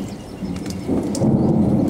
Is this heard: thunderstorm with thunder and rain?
yes